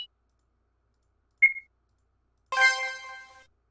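A short electronic blip, then a brighter chiming tone that rings briefly and fades, an RPG Maker VX Ace menu decision sound, heard alone in silence.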